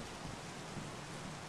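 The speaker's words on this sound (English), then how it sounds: "It's raining inside. How's it raining inside?" Steady hiss of rain falling indoors inside a building in the video game Lethal Company, a dense even wash of drops with no pauses or other sounds, alone and fairly quiet.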